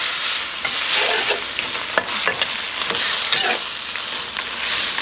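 A sauce made with chicken stock and thickened with cornstarch bubbles and hisses in a pan, a bright continuous sizzle with irregular pops and a few stirring knocks.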